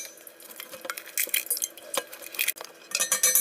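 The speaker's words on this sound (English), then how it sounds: "Now we're going to crack the eggs." Eggs cracked for holiday baking, with sharp clinks and taps against a bowl, a few crisp knocks and light clattering scattered irregularly, close and fairly loud with no talking.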